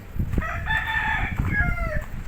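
A Kelso rooster crows nearby, one long drawn-out cock-a-doodle-doo over low background rumble, clear and fairly loud.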